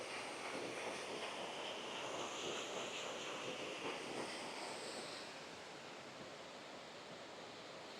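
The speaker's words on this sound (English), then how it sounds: "I've just found this really cool waterfall" A waterfall on the Cumbria Way near Langdale roars with a steady, close, broadband rush that softens a little toward the end.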